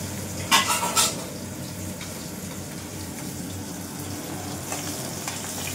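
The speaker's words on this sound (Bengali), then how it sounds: "মাছ ভাজাও হয়ে গেছে," Fresh fish frying in a pan in a Kolkata home kitchen, with a steady soft sizzle and a couple of sharp utensil clatters near the start.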